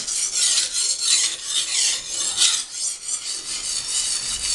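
A knife blade sharpened on an oiled stone, steady rasping strokes in a circular rhythm, close and clear with no talk.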